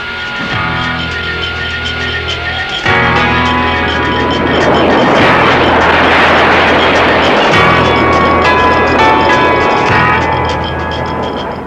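An aircraft flies during Gatling gun flight certification tests, giving a loud, steady engine roar that swells midway, heard under tonal music with no speech.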